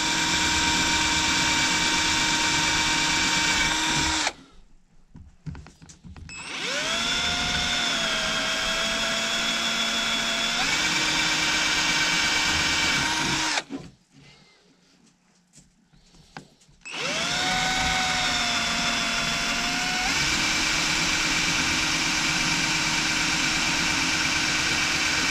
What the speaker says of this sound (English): Quick note, don't drill too fast. You don't want to splinter it out.